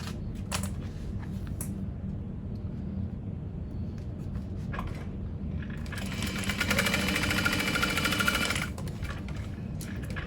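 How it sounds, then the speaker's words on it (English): A sewing machine runs steadily while top stitching a fabric tote bag panel, a near, continuous mechanical whir with a brief start around the first seconds and a louder sustained run toward the end. "And I'm going to top stitch along here."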